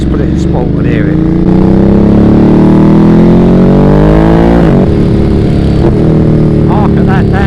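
Ducati Monster motorcycle in sport mode, its engine loud and near as it drones steadily and then blips down through a gear change, with a voice speaking over the engine noise.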